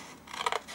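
Scissors cutting a wavy paper mask: one short crisp snipping swish, close and clear, with a faint second snip right after.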